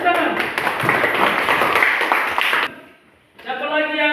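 A classroom of students clapping hands together after a group presentation, a few seconds of brisk mixed clapping that stops abruptly, followed by a short pause and then a voice speaking.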